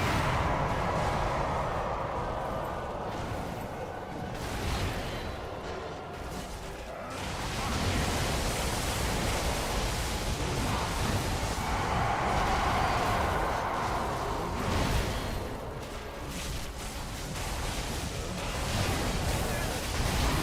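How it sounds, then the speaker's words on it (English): Booming blasts and rumbling impacts from a Dark Souls 3 DLC final boss fight, a dense, loud barrage of game combat noise lasting throughout, with a stronger burst of explosive roar midway. "Back off for the explosion."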